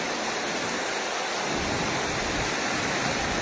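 Water rushes continuously, a loud broadband roar like a close torrent or spillway, with no other sounds.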